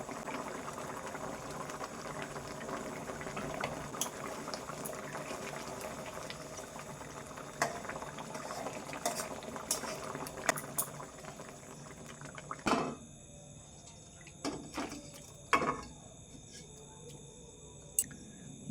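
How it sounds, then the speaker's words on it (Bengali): Hilsa fish curry simmers in a pan, a quiet, steady bubbling with scattered small pops and a few louder clinks toward the end. "একটু ফুটে উঠলেই তারপর আমি নামিয়ে নেব"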